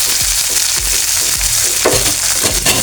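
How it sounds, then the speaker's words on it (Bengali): Onion and green chili sizzle steadily in a hot oiled pan, with loud continuous frying crackle and rhythmic stirring scrapes close up, no voices. "আমি এটা ভেজে উঠে নেব"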